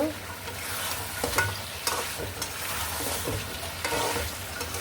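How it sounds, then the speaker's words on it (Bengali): Country chicken curry with whole garlic cloves sautés in a pan, a dense steady sizzle broken by repeated stirring scrapes, close and fairly loud. "আমি কয়েকটা আস্ত রসুন দিয়ে দিলাম এখন আমি আরও অনেক সময় ধরে কষিয়ে নেব"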